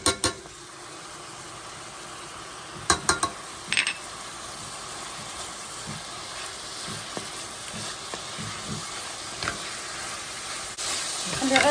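Tomato frying in olive oil with ginger and cumin, a continuous soft sizzle with a few sharp utensil clinks against the pan early on, close and fairly quiet.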